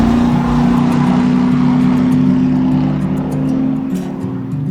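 A Ford Mustang engine roars loudly and continuously, holding a steady deep drone with a slight dip near the end, with no other sounds over it.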